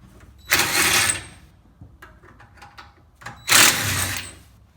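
Two loud bursts from an impact tool blasting bolts off the front subframe of a Mazdaspeed3-swapped RX-8, each about a second long with a quiet stretch of small clanks between.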